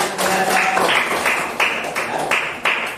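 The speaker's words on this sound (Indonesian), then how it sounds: "Ya, tepuk tangan dulu." A classroom group claps hands in a few quick bursts, sharp slaps in loose bunches with short gaps between them, fairly loud and close, with no talking over them.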